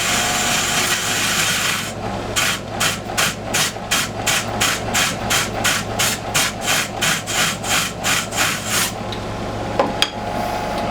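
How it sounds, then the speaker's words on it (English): A dirty polishing wheel is cleaned with a piece of wood holding screws, giving a loud rhythmic scraping burst about twice a second over the machine's steady hum, which then stops. "I use just a bunch of screws and a piece of wood. That'll get off the nasty stuff."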